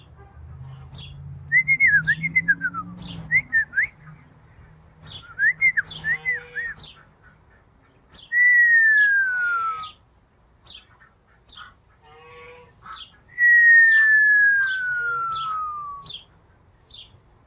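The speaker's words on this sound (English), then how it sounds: "That cheeping sound is actually a sparrow." A sparrow cheeps with repeated short, sharp chirps in bursts near a European starling, mixed with several long, clear sliding whistles in a quiet setting.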